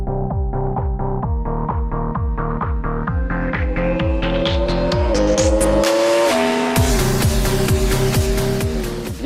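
Yamaha YZF R1 M / R1 2015 sport motorcycle engine revving hard through repeated gear changes on a test ride, each upshift climbing in pitch, loud and close with no talk.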